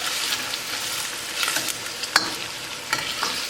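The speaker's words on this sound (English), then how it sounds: "Keep mixing and keep cooking until onions are nicely translucent." Onions sizzle and fry in a hot pan after ginger, a steady bright hiss broken by scraping stirs and a few sharp clinks, close and loud with no talking.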